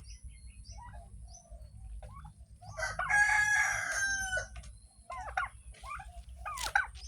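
A turkey calls on a mixed farm in Thailand: a short burst of throaty calling midway through, with scattered chirps from other fowl and birds, fairly faint against a quiet low hum.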